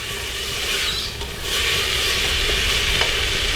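Garlic frying in a pan at a bush campsite crackles in a loud, steady sizzle, with a brief stirring shuffle partway through and a small clink near the end.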